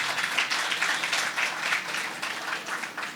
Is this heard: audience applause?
yes